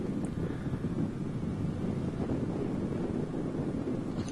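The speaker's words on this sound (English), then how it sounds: "Bit of a wind on as well." Steady wind buffeting a microphone on a cold, sunny day in New York Harbour, a continuous low rumble with no voices throughout.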